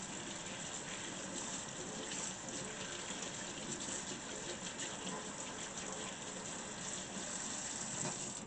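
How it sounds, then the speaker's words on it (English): Celery is rinsed under a running kitchen tap, giving a steady, close, even gush of water into a sink that lasts the whole time without pause, with no talking. "run it under water and rub it with your hands to get that dirt off"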